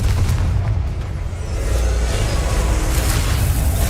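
Heavy booming blasts of a Confringo fire spell in Hogwarts Legacy, deep rumbling explosions with whooshing rushes that roll on continuously and loudly, with no voice over them.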